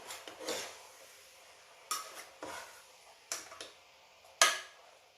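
Metal spoon scraping and clinking against a pot of beef, several separate stirring strokes spaced a second or so apart, fairly quiet with no talking.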